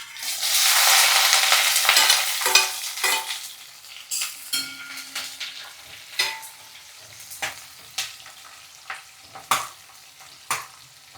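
Onion and green chilies frying in a mustard seed tempering, a loud close sizzle as they hit the hot oil that settles into quieter frying broken by regular spoon scrapes and clinks against the pan.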